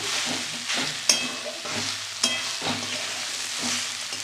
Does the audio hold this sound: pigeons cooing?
no